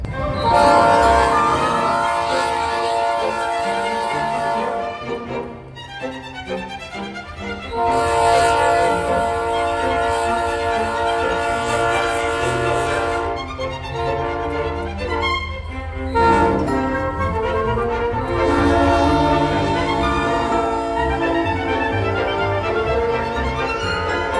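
BNSF freight train led by locomotive 4001 sounding its horn in long, loud chord blasts with brief gaps between them, over the low rumble of the moving train.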